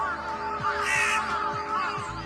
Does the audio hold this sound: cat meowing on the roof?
no